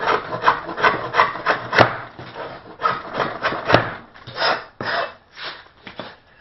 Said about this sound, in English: First I scrape off the two flats here on the face of the stile.